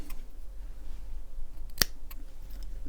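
A single sharp snip of scissors cutting a vape coil wick on a Mongrel RDA, close and crisp against quiet background hiss.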